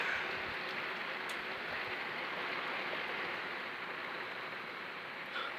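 Heavy rain pours down steadily during a thunderstorm in Northern Ireland, a dense, constant hiss with no break and no voices.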